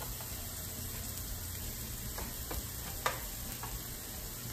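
Heavy cream is poured into a pan of onions cooked until translucent, giving a steady soft sizzle with a few faint stirring ticks and one small clink, close and fairly quiet.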